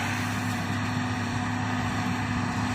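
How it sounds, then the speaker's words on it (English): A small hay baler runs steadily in a field, an old machine held in its lowest gear, giving a continuous droning engine hum with a faint regular mechanical beat, close and unbroken. "Well, little baler's working."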